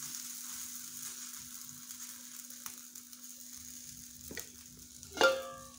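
A corn paratha frying in a pan gives a faint, steady low sizzle, with a steady hum underneath and a brief louder clatter near the end.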